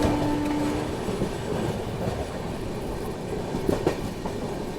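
Bengaluru Rajdhani Express rolling slowly through a station, heard from on board as a steady rail rumble with soft wheel clatter, a brief tonal hum early on and a couple of sharp clicks near the end.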